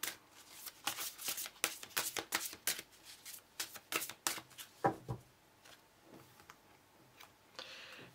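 Tarot cards are shuffled by hand at close range, a rapid series of crisp riffling snaps and flicks in bursts that thin out toward the end.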